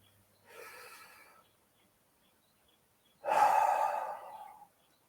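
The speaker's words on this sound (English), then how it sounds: "let's take another deep breath with an open mouth" A deep open-mouthed breath during a guided mindfulness meditation: a soft inhale followed after a pause by a louder, longer breathy exhale, close and alone with no talk.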